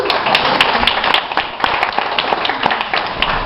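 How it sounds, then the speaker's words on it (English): Audience at a literary reading gives a round of applause, steady dense clapping with a few sharper claps standing out, loud and close throughout. "Can we have another round of applause?"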